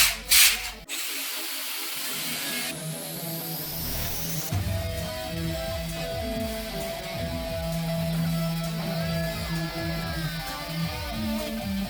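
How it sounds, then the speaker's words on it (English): Hand sanding wood with 100 grit sandpaper on a simple laptop stand, a steady close rasping rub that continues for about ten seconds after a brief clatter at the start, with no talking. "you can go around the whole thing with 100 grit sandpaper"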